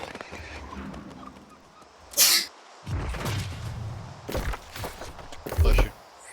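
A single sharp sneeze bursts out abruptly, briefly rising above ongoing talk and background game noise in a room, followed by more speech.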